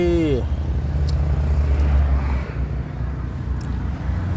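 A used car for sale in Buriram idles steadily, with a low, even engine rumble that continues throughout. A brief tonal sweep is heard at the start.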